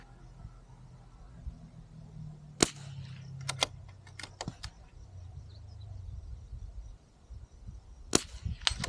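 Sharp reports from a .22 rifle firing at steel targets outdoors during a steel challenge, several spaced cracks with faint pings and a pair of shots near the end over low background noise.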